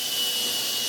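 A restored Hoover Constellation vacuum cleaner running with a steady, loud, hissing airflow roar and a constant motor whine throughout.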